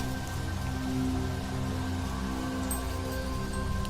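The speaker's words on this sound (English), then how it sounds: "The rain began to fall in the afternoon" Rain falls steadily in a rural outdoor setting, a constant fine patter with a faint drip or two near the end, moderately loud and uninterrupted.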